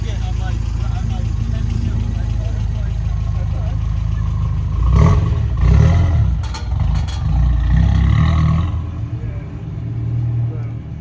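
A 1988 Toyota 4Runner with a Street Stroker engine idles, then revs up hard from first into second gear with a rough mid-pitched roar and clatter, close by, with people talking throughout.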